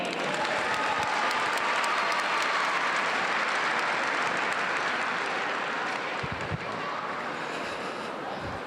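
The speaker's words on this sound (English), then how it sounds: "Let's give her a big round of applause" Loud, sustained applause from a crowd, steady clapping filling the whole stretch and fading slightly near the end.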